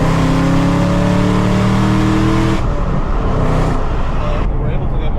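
Chevrolet Camaro ZL1 engine revving hard during a short pull, a loud, rising tonal roar that abruptly drops off midway, followed by rougher lower engine noise, with voices briefly audible.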